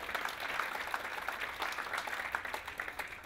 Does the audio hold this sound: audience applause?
yes